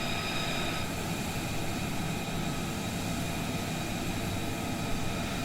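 An F-35B fighter jet comes in to land with hook and landing gear out, its engine giving a steady, broad roar that holds at a moderate level.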